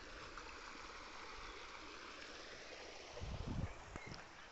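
A small stream trickles and flows steadily at low volume outdoors near a meadow, with a brief rustling bump toward the end.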